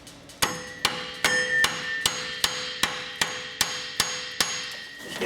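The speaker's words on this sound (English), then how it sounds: "Just gonna give her a couple whacks." A two-pound hammer strikes a ball joint on a Ford F350 4WD front suspension about a dozen times in a steady rhythm, each sharp metallic clang ringing briefly, close and loud with no talking.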